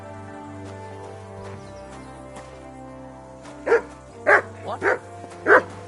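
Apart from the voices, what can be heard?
dog barking on command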